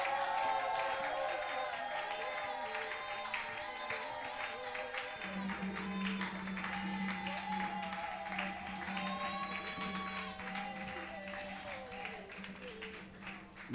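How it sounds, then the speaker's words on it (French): Church congregation acclaiming at a Thursday worship service, a continuous crowd roar with clapping and cheering mixed with music and a voice talking over it throughout. "Si vous pouvez acclamer et faire beaucoup de bruit pour la gloire du Seigneur"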